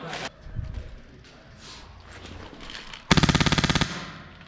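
Airsoft guns fire at windows and a doorway during a military simulation game, with scattered shots followed by a loud rapid burst of about a dozen rounds, and voices talking in between.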